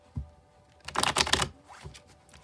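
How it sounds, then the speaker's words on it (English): A deck of tarot cards is riffle-shuffled close by: one soft tap, then a burst of crisp rapid flutter lasting about half a second, followed by a quieter tap. "I'm going to shuffle till I feel like it's ready, and then I'll cut the deck and deal right off the top"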